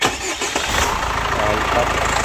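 A Chevrolet Captiva diesel turbo with a rough-running, smoking engine cranks and fires up, settling into a loud, steady idle close by, with a voice speaking over the start.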